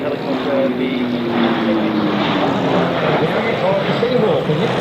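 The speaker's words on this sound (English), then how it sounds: "that, of course, is the Navy helicopter" Navy Seahawk helicopter flying past at an airshow, a steady loud rotor and engine roar with drifting whine tones lasting throughout, with a commentator talking over the noise.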